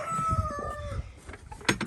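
A rooster crows once nearby, a short strained call trailing off, followed by a few scattered clucks and rustling.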